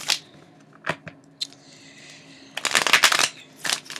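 Tarot cards shuffled by hand, short papery riffles and taps at first, then a longer burst of quick crisp flutters, close and dry in a quiet room.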